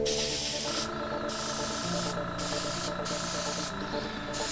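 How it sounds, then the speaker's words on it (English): An airbrush sprays paint onto a skateboard in a steady close hiss, broken by a few short pauses, with a constant background hum and tones underneath. "The cool thing about an airbrush is that it's really actually easy to apply even coats as long as you're doing it right."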